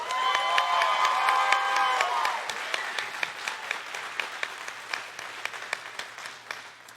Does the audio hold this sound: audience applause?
yes